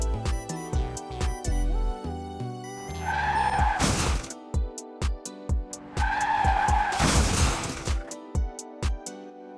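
Hot Wheels toy cars race down a track, with rhythmic clacking over track joints and two loud, noisy whooshing bursts as the cars speed through. Sharp clicks punctuate the passes, and no one speaks.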